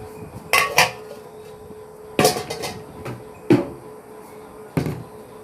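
A utensil clinks and scrapes against a vessel while spice powder is mixed with oil, giving four or five sharp, separate metallic knocks with quiet pauses between them.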